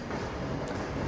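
Trains rumble past in the VR game Ghost Town VR, a dense, steady roar of rail noise that fills the whole short stretch with no break.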